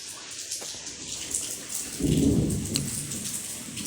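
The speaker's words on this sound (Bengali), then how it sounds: "বাইরে খুব বৃষ্টি" Heavy rain pours down outdoors with a low roll of thunder swelling midway, a continuous wash of noise heard from a short distance, with no one talking.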